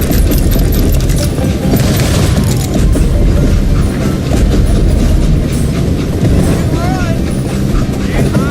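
A steam locomotive rumbles along in the Western video game Call of Juarez: Gunslinger. It gives a loud, continuous rolling roar with rhythmic clatter throughout.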